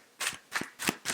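Rider-Waite tarot cards are shuffled in four quick, crisp riffling bursts with short pauses between them, close and fairly quiet, with no talking.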